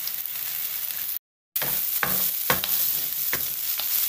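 Pepper, halved garlic clove, green onion and parsley sautéing in a pan, a loud steady sizzle with several stirring scrapes, briefly cut off by a short dropout near the start.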